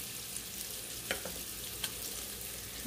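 Dried red chili dropped into hot oil for a kids' pumpkin bhaji, a steady crackling sizzle with a few sharp pops and spatters, fairly close and without talk.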